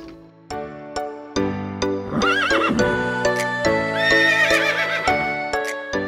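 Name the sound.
ponies neighing in a meadow at a pony club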